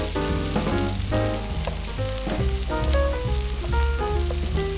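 Green pepper hits hot oil in a quick sweet chili beef stir fry with onions, a loud, steady, close sizzle with faint stirring movement underneath.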